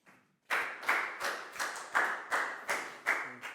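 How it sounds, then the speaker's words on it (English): Eight or nine sharp, evenly spaced rounds of clapping from a small group of children in an English classroom, close and clear after a brief quiet start. "a big round of applause for Chu, please, guys."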